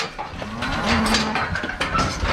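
Cattle mooing loudly and close by during calf processing and pregnancy testing, a long low bellow followed by rougher calls, with faint background clatter.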